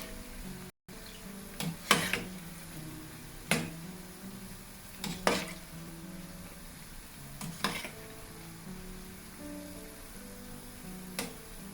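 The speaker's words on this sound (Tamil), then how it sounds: "கொஞ்ச நேரம் பொரிஞ்சா பிறகு கிளறி விடணும்." Banana puff (vaippan) batter frying in hot oil with a steady low sizzle, broken by about six sharp scraping stirs of a utensil against the pan at irregular intervals, close by with no voices.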